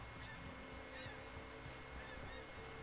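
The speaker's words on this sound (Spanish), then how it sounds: "Estoy viendo todos los gansos de mi vida." Geese honk in the video game Red Dead Online, a few scattered calls over a steady outdoor ambience with a faint low drone, moderately distant and not loud.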